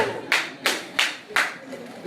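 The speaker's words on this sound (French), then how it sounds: "faut applaudir" Clapping in a church congregation, heard as four sharp, evenly spaced loud claps in a slow rhythm, like a single person or small group clapping deliberately, with a quiet background between them.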